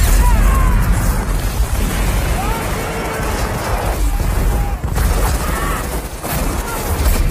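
Mortar fire and explosions from the war film We Were Soldiers form a loud, dense battle din of booms and bursts that runs without a break.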